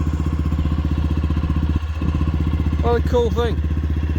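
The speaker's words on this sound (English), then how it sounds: "Real smooth engine. Double overhead cam." Close up, a Neco NC50 50cc double overhead cam motorbike idles with a smooth, even putter and a deep exhaust tone, one brief dip midway, while someone speaks briefly near the end.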